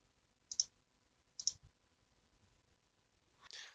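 A computer mouse clicks twice at an even pace, crisp and close in a quiet room, followed by a soft rustling shuffle.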